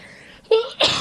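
A single sharp human sneeze during a wrestling podcast: a short intake followed by a loud, close burst, alone without talk.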